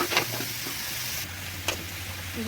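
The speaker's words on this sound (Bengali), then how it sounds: "মশলা দিয়ে ভালোভাবে কষিয়ে পেঁয়াজের কলিগুলো দিয়ে দেব" Spring onion stalks frying with spices in a wok, a soft steady sizzle with a couple of sharp spatula scrapes against the pan, fairly close and moderately quiet.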